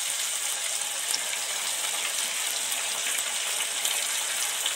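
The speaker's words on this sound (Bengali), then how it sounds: "এবার এই তেলের মধ্যে এই মশলাটা ঢেলে দেব" Spiced paste for a Sundarban sea crab curry hits hot oil in a pan, giving a loud, steady hissing sizzle that holds evenly throughout with no voices.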